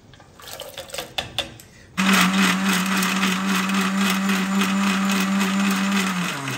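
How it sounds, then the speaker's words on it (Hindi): Blender grinding washed phalsa berries with mint leaves, black salt and sugar, starting after a few clinks and splashes, then a loud steady whirring roar that runs on without pause. "धो के इन्हू ग्राइंड कर रहे हैं जी।"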